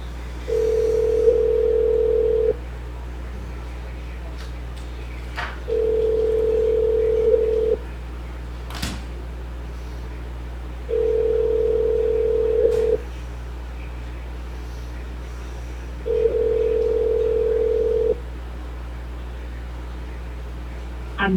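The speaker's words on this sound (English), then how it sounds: "Let's call Deb Jordan and see if we can get an update out of Oregon." A telephone call rings out while waiting for an answer: four long, steady ring tones spaced evenly over a constant low hum, with faint clicks between them.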